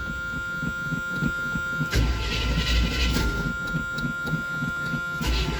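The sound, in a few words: squeaky belt on 1978 GMC truck engine starting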